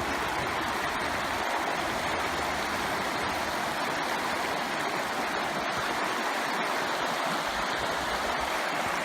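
Steady rushing water of a river tumbling over rocks in the White Mountains, a continuous broadband wash with no pauses, fairly close and constant throughout.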